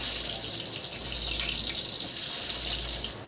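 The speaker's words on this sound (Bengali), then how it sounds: "আমি আলুগুলো এখন ভেজে নিচ্ছি" Potato pieces rubbed with salt and turmeric fry in hot oil, giving a loud, steady hiss and sizzle that holds evenly and then cuts off suddenly at the end.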